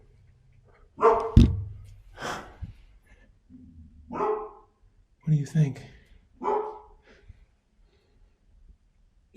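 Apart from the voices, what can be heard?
dog barking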